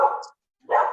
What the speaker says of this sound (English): Someone's dog is very angry and needs a treat.